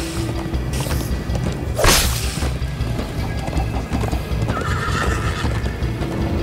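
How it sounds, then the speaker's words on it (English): In Minecraft: Story Mode, a horse whinnies loudly and its hooves clip-clop at a gallop, with a sharp crash and swoosh mid-scene, all in continuous game audio. "First time on a horse here!"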